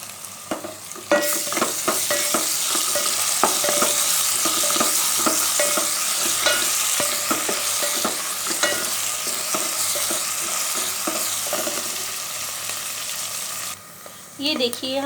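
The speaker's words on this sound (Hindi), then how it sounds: "ये देखिए हम लोगों का प्याज बहुत ही अच्छे तरीके से फ्राई हो गया है" Onions frying and being stirred in a pan with cumin seeds and ginger-garlic paste for a dhaba-style methi aloo, giving a steady close sizzle broken by repeated scraping stirs throughout.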